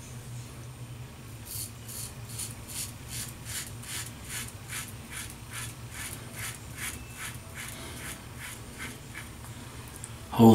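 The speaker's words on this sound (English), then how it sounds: "now we're going to go to do the shave" A RockWell Model T adjustable safety razor scrapes across skin in an even series of about twenty short strokes, close and distinct over a low steady background hum.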